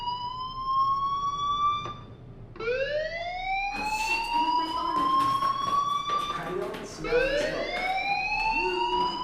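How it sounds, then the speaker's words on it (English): A fire alarm in the Life is Strange video game at Blackwell Academy sounds as a loud, steady electronic wail in repeating rising sweeps, with a voice speaking over it part of the time. "do you hear that fire alarm? That means you should be outside."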